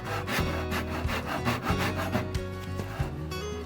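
A hand saw cuts through old, rotten deck wood to free screws that will not come out, giving steady back-and-forth rasping strokes, close and loud and continuous.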